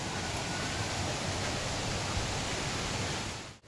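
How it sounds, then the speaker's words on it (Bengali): Steady, dense rushing water of a waterfall coming down a hill roars without a break, loud and close, then cuts off abruptly at the end. "দেখুন পাহাড় থেকে ঝর্ণাটা নামছে"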